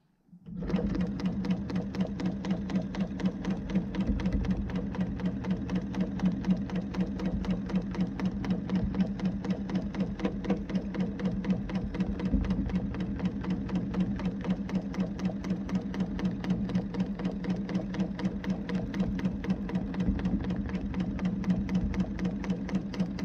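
A sewing machine runs steadily while stitching a whole cloth quilt with rulers and templates, a continuous close, loud mechanical hum with rapid needle clatter after a brief start.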